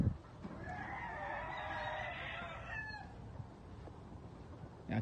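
A rooster crows once, fairly distant, among a flock of half-Sil, half-Kelso hens kept with a Sweater rooster on a gamefowl farm, over steady outdoor background noise with no talk.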